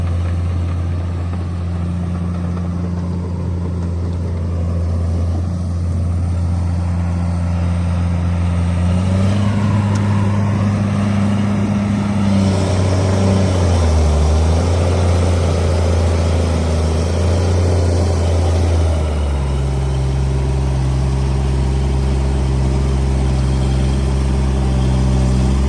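Engine of a dirt-pushing machine in snowy, muddy conditions, a loud continuous low rumble that shifts pitch as it is revved up and eased back, steady and close with no talking.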